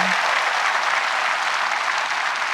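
A hall audience applauds at a spiritual event for a clean society, a dense, steady wash of clapping holding evenly from start to finish with no voices over it.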